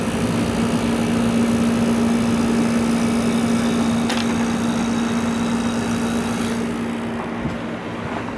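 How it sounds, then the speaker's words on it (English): A 1982 Emerson Quiet Kool 7400 BTU window air conditioner with its compressor running, giving a loud, steady hum with a constant low tone under the rushing fan air, unchanging throughout with no talk. "There's the compressor. Pretty quiet compressor."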